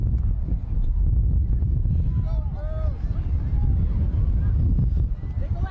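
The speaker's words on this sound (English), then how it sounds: "So it's windy now and it's cold" Steady low wind rumble buffeting a microphone outdoors at a cold, windy sports match, loud and continuous, with faint distant voices or whistles drifting through.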